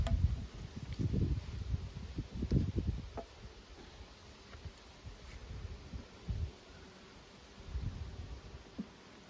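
Low, close buzzing of honey bees in a mating nuc hive rises and falls in bursts, with quieter humming and soft rustling between.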